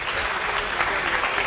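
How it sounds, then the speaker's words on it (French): A church congregation claps together in steady, dense applause filling the hall, with a voice faintly audible underneath. "Acclamons très fort pour les rois."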